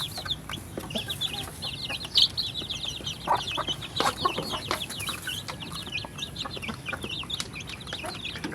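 Backyard chickens, including a hen with chicks, cluck and chatter steadily at feeding time, with dense overlapping calls, occasional louder squawks, and a low rustling bed of movement throughout.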